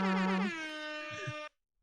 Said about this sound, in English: Can we do an air horn for natural 20?